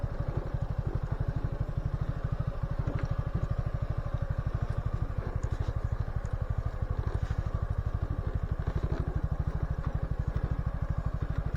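A Suzuki Gixxer 250 motorcycle engine runs steadily while the bike is stopped on dead leaves on a steep 25% grade road up Mount Tsukuba. The close, even putter continues throughout with no talking.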